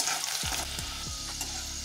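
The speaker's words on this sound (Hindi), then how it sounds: "अब इसी तरह हम अपनी बची हुई दाल को भी फ्राई कर लेंगे।" Leftover dal lentils frying in a little oil for a poha chivda namkeen snack, a steady bright sizzle with a few quick stirring scrapes, close and even, no voices.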